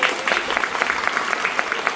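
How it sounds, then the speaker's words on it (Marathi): An audience at a school admission festival in a rural village claps for the district education officer, steady, dense applause filling the room. "आपण सगळ्यांनी एकदा सरांसाठी टाळ्या वाजवायच्या जोरात."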